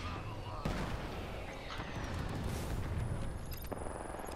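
Video game gunfire in a chaotic multiplayer match, a few sharp shots and booms over a busy, noisy background.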